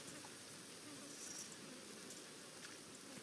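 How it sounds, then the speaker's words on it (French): Flies buzz faintly and continuously in the Resident Evil 4 video game, a soft steady insect drone with light scattered ticks. "il y a les mouches"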